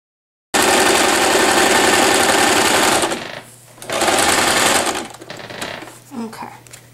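A sewing machine stitching elastic into a fabric headband runs loud and close in a steady high-speed whir, stops briefly, starts again, then slows to short bursts as a voice speaks over the motor.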